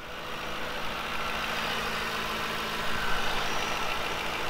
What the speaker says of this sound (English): Nice, clean engine, running like a champ.